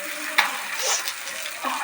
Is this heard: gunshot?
no